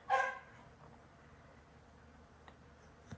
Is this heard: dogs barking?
yes